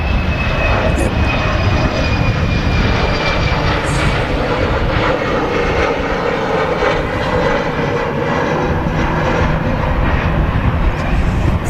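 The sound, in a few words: KLM Embraer jet taking off at Manchester Airport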